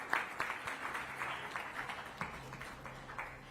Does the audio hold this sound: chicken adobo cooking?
no